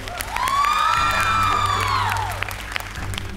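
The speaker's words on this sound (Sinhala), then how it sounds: "මම ඔය දෙන්නගේ එනර්ජි එකට ක්ලැප් කරන්න කියලා කියනවා මේ ඔඩියන්ස් එකේ ඉන්න" A studio audience at the Hiru Super Dancer Season 4 finals claps and cheers, a loud swell of crowd noise carrying a prominent high whoop that rises and falls over about two seconds before fading.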